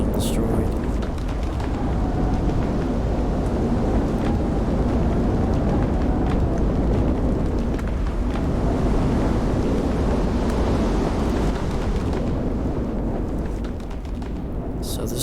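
An F1 tornado tears through houses in a Minecraft tornado mod, giving a loud, continuous roaring rumble like heavy wind that holds steady throughout.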